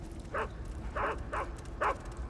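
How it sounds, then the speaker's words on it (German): A guard dog in Metal Gear Solid 3 during a prison escape barks four times in quick, evenly spaced yaps, fairly close over a steady game ambience. "Und der nächste Köter."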